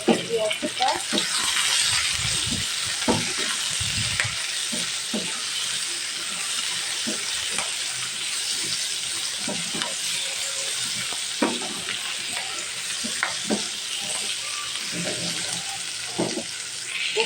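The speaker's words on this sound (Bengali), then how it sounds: "এখন মিষ্টি কুমড়াটা দিয়েও আমি ভেজে দেবো। মিষ্টি কুমড়া আর একসাথে পেঁয়াজটা" Pumpkin and onion frying together in a pan give a steady, close sizzle throughout, broken by scattered clinks and scrapes of stirring.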